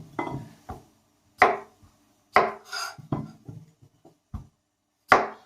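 A knife trims the edges off potatoes on a board, making a series of sharp, separate cutting clicks and thuds at irregular intervals, close and clear in a quiet kitchen.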